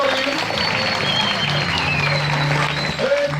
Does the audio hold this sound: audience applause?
yes